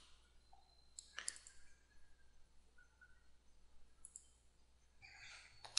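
A computer mouse gives a few faint, sharp clicks, including a right-click, spaced out in a quiet room with no talking.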